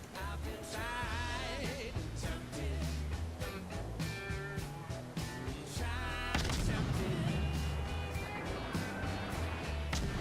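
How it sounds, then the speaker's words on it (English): Warship guns booming in salvos in World of Warships, repeated heavy blasts and rumbling impacts layered over busy game effects and music, dense and fairly loud throughout. "Now I start firing in salvos, but then I switch to sequential fire."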